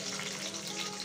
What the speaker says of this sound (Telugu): బాండీలు తీసుకొని నూనె కాగిన తర్వాత పోపు గింజలు వేసుకోవాలి.